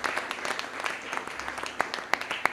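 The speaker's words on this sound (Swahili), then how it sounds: "tupigie makofi" Church congregation applauds at a night prayer vigil, a loose, moderately distant patter with a few sharper, louder claps near the end.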